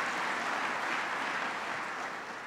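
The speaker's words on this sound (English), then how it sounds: "He deserves a big round of applause." An audience at MIT applauds Senator Ed Markey during a speech by President Barack Obama, a distant, dense wash of clapping that stays steady before slowly fading.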